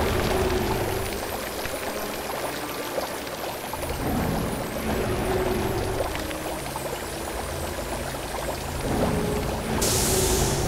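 Water pouring and splashing steadily in the LEGO Harry Potter: Years 1-4 video game, a continuous loud wash of flowing water with a brighter hiss rising near the end, no talking.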